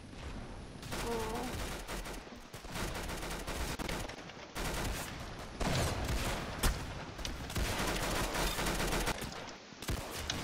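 Rapid, loud bursts of video game hand cannon gunfire pile up continuously, with explosive blasts layered in the dense mix.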